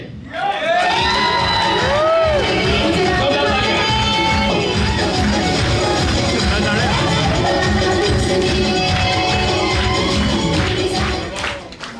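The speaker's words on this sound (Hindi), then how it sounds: "एक बार जोरदार तालियों के साथ" A large audience at a celebration event in Himatnagar cheers, whoops and shouts loudly as founder members are called onto the stage, with a dense, continuous roar of crowd noise and some voices over it.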